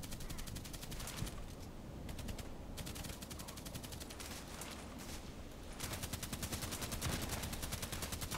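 Video game gunfire from an M40A6 sniper rifle sounds as rapid, continuous volleys of shots, a dense rattling barrage that runs throughout and briefly thins in places.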